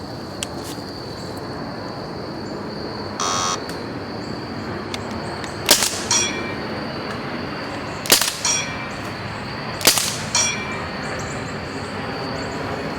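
Rifle shots in an open field strike AutoTargets lift unit steel targets: a handful of sharp, ringing impacts spaced a couple of seconds apart, each with a bright metallic decay, over a quiet outdoor background hum.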